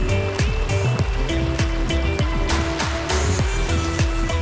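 Back Creek near Virginia's natural hot springs rushes steadily over rocks, a close, continuous broadband wash of flowing water with small splashes and gurgles throughout.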